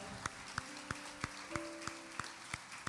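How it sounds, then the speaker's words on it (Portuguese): Congregation at a church service claps in a steady, regular beat, the faint claps arriving about three per second over a soft sustained tonal backdrop, heard from a distance. "Toma o seu lugar, aplaudindo ao Senhor por essa palavra."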